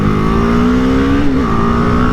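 A BMW G310R motorcycle engine holds a loud, close, steady drone while accelerating through a U-turn, its pitch rising slightly and then dipping briefly before settling again.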